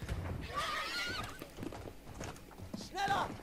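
A horse in Battlefield 1 gives two rising whinnies, one early and one at the end, while its hooves clop steadily underneath, close and fairly loud, with people talking around it.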